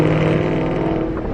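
A loud Ford Mustang Foxbody engine roars close up in a steady, throaty drone with no letup.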